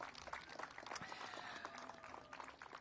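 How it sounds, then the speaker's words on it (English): Applause from an audience at an outdoor civic event announcing a teacher of the year and a leaf collection kickoff, a fairly faint, steady patter of clapping lasting a few seconds with some crowd noise. "So give them a big round of applause."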